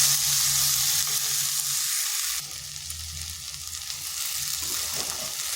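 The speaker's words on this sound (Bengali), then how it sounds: "এরপর এগুলো ভালোভাবে আবার একসাথে মিশিয়ে নিচ্ছি।" A semolina mixture with chopped coriander is stirred in a pan, giving a soft continuous scraping sizzle close by, slightly quieter in the second half, with no talk.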